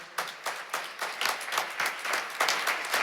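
Applause for volunteers at a restorative justice community court graduation ceremony: steady rhythmic clapping from a small group, moderately loud and close, with almost no voices.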